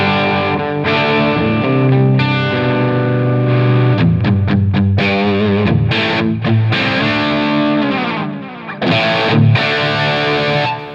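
An out-of-tune electric guitar plays through a modeler with heavy distortion, loud sustained chords and quick choppy strums with brief gaps, alone without voices.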